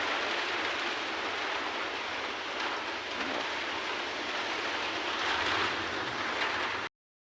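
Steady rain shower outdoors, a dense continuous hiss of falling drops at even loudness for several seconds, with no voices, before cutting off abruptly.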